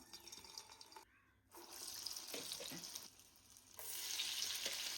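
Garelu, round lentil fritters with a hole in the middle, dropped into hot oil and frying: bursts of sizzling and bubbling that cut out briefly, then return louder and steadier toward the end, with no speech.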